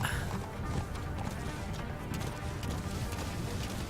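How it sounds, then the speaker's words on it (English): Hooves clip-clop rapidly in a steady galloping rhythm, fairly quiet beneath a dense background wash; a horse galloping in the video game Metal Gear Solid V: The Phantom Pain. "Come on, horsey. Let's go."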